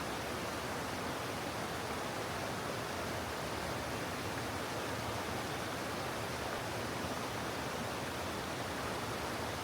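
A waterfall at a landscape photography location, a steady dense rush of falling water that fills the whole clip evenly, with no voices.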